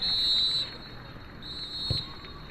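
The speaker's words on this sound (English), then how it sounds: "And that is the half-time whistle." Referee's whistle blown for half-time at a women's football match in the CAF Women's Champions League, a shrill sustained blast followed by a second shorter blast over faint stadium ambience.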